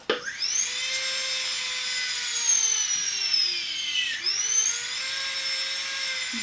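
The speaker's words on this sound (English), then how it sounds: "Straight attachment burr. And we're going to drill right." Dental drill fitted with a straight burr grinding into a custom-fitted sports mouthguard, a steady high whine that dips in pitch briefly as the bit bites, then recovers, close and continuous with no talking.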